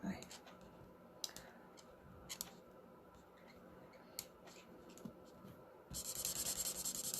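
A marker scratches and squeaks across paper, coloring in a stamped pie image in short strokes with a few sharp clicks, close and quiet, with talking underneath.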